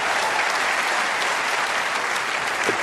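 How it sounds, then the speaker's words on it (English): Sustained audience applause in a snooker arena at the 2023 UK Championship final, marking a century break: a dense, even patter of many hands clapping, steady and fairly loud throughout with no pause. "Are they going to keep the applause going while he's clearing up?"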